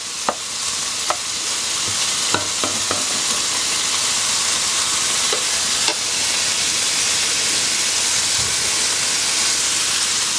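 Potatoes sizzle steadily as they fry in a pan, a dense continuous hiss broken by a few sharp clicks and scrapes of stirring, close up with no talking.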